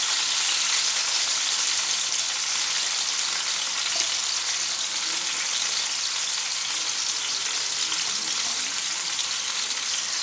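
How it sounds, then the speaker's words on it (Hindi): Chopped onion dropped into two spoons of hot oil for a cabbage and pea curry, a loud, dense hissing sizzle that holds steady and close throughout, no talking. "2 चम्मच ऑयल के डाले हैं और साथ ही चॉप किया हुआ प्याज डाल देते हैं।"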